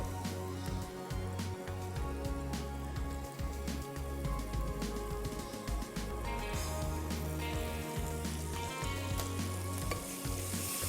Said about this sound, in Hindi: अब इस स्टेज पे शामिल कर देंगे टमाटर।